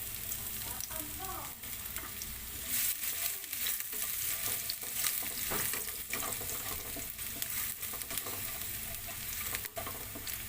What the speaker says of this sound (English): So now it's time to put our garlic in a wok and saute this for a few seconds.